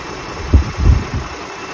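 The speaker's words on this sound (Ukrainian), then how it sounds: "Послухаємо, як працює у нас мотор." A 2011 Toyota Highlander engine idles with a low, steady rumble and a few soft throbbing pulses, close and fairly quiet.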